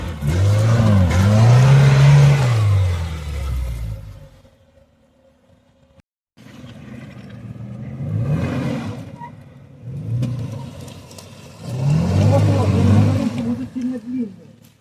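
An off-road vehicle descends rough terrain, its engine revving hard in loud surges that drop to a near-silent pause before roaring back, while people talk nearby.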